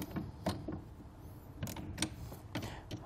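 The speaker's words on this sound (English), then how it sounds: "we're just going to grab a 7/16 inch socket, tighten it down all the way." A 7/16 inch socket tightening cap nuts on a Saris Traps fork-block bike rack, quiet close ratcheting clicks and metal scrapes in short bursts.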